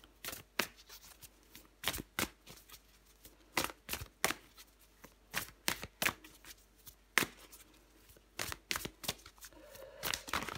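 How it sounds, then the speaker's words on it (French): Tarot cards are shuffled and drawn, giving steady bursts of crisp riffling and slapping card sounds, close and fairly quiet, with no talking. "Je prends encore une carte pour vous."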